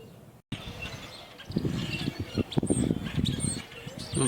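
Small bird chirping outdoors in an overhead plane-spotting setting, several short, high tweets scattered over a few seconds against steady low background noise.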